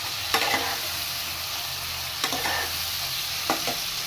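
Cashew nuts frying in a pan with sliced tomatoes, a steady close sizzle broken by three short stirring scrapes spaced a second or two apart.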